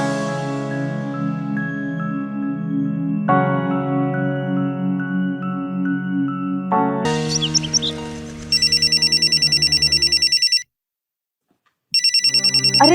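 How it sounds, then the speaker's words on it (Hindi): A melodic electronic ringtone plays, then a rapid trilling phone ring sounds loudly, stops briefly, and starts again. "अरे दीदी फोन बज रहा है"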